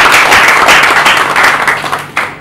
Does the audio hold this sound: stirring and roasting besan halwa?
no